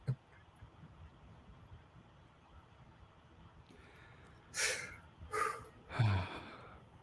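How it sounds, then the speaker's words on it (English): A person coughs and yawns in a few short, breathy bursts that come close together near the end, after a long stretch of quiet room noise with no speech. "when energy shifts, I yawn and cough"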